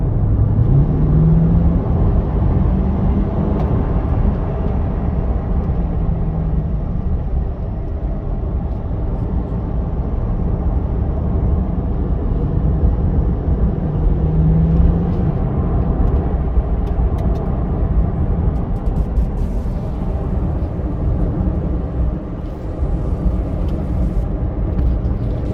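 A 2021 C8 Corvette drives steadily, its low engine drone and road rumble continuous and loud throughout, with slight rises in pitch suggesting gear changes and acceleration.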